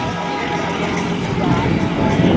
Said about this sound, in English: Just love the sound of a good engine though. That's a single engine Lyman.